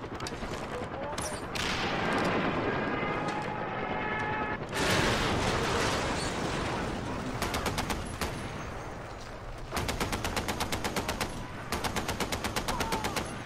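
Heavy .50 cal machine gun in Far Cry 4 fires loud, rapid bursts of rhythmic shots, the bursts stopping and restarting, over dense game noise and a steady rumble.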